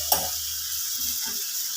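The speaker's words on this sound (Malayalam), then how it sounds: "കൂടെ അരിഞ്ഞു വെച്ചിരിക്കുന്ന നാരങ്ങ ഇട്ട് കൊടുക്കുക." Chopped salted lemon for Kerala-style lemon pickle drops into hot oil with a sharp initial hit, then settles into a steady soft sizzle.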